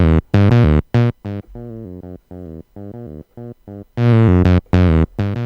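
A Behringer TD-3 synthesizer arpeggio with its distortion switched on plays a choppy, buzzing sequence of notes, louder and harsher at the start and end, quieter and thinner in the middle.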